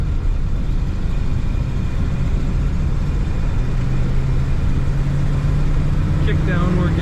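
A 1955 Oldsmobile Super 88 Holiday cruises down the highway with a steady, continuous low road and engine rumble inside the cabin, loud and unbroken, with someone talking over it.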